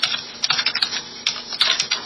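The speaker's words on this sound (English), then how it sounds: "just type out youtube.com" Computer keyboard being typed on during a keyboard review, a fast, close run of crisp key clicks in uneven bursts with brief pauses, no speech.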